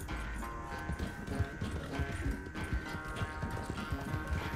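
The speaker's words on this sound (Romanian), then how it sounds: "Sper să reziste calul până acolo." Horse galloping in the Red Dead Redemption 2 video game, a steady rapid clip-clop of hooves running continuously throughout over a layer of in-game music and ambience.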